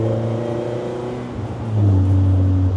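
Honda engine in an Ariel Nomad off-road car held at high revs in a low gear, a loud steady drone that shifts pitch partway through and swells louder near the end.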